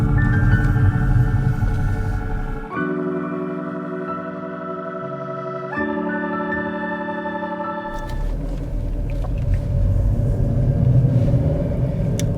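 Hyundai i30 Fastback four-cylinder engine heard from the cabin while driving, a steady droning hum with a few abrupt shifts in pitch, continuous and fairly loud throughout.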